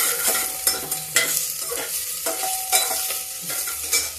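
Chopped onions sizzle in hot oil with fenugreek and cumin while a spoon scrapes and stirs them around the pan, giving a steady close frying hiss broken by regular stirring strokes.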